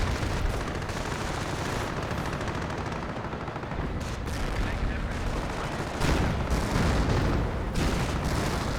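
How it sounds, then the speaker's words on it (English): Artillery barrage in the video game Company of Heroes, dense continuous booms, gunfire and explosions layered loudly throughout, swelling harder toward the end. "And there is a barrage there, which will destroy the AT gun."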